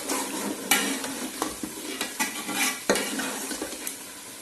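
Peas sizzle and fry in a pan of matar biryani masala with a little added water, while a spoon stirs with repeated scraping strokes and occasional sharp clinks against the metal, close and steady throughout.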